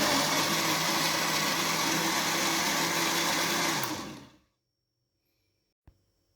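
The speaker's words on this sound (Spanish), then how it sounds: "Tapamos y procesamos por pocos segundos para no romper muchas semillas." A blender whirs loudly and steadily for about four seconds, processing banana passion fruit with half a litre of water, then winds down to silence, followed by a single faint knock.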